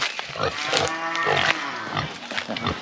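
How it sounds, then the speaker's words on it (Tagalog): A large farm pig grunts and squeals repeatedly at feeding time, close and fairly loud, with other livestock noise around it. "Isa sa malaki nating baboy dito."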